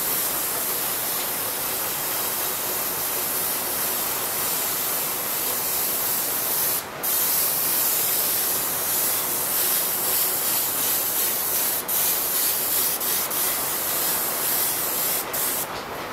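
An airbrush sprays paint in a steady, close hiss while shadow areas are shaded in freehand, continuous throughout with only a couple of brief breaks in the flow.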